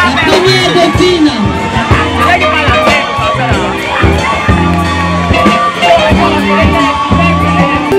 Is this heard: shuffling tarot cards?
no